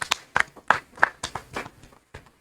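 A small seminar audience at a youth event on the 2024 election gives sparse hand claps, a handful of sharp, close taps spaced a beat apart and fading out within about two seconds.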